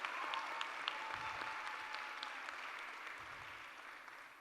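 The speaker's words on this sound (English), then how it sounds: "For that, you have to give a nice round of applause." An audience at a saxophone and dance debut recital gives a round of applause. The clapping is soft and distant, a light, continuous patter of many hands with a faint low hum underneath.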